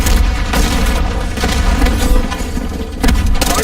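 A stun grenade detonating in a Call of Duty hardpoint match: loud booming blasts and thuds mixed with scattered gunfire, with a sharp burst near the end, all close and heavy.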